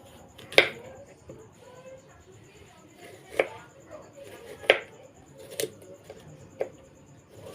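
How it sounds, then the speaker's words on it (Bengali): Knife slicing through an apple on a cutting board for a fruit chutney, several separate crisp cuts spaced a second or so apart, close and fairly quiet against a soft background. "আপেলটা কেটে নিয়েছি"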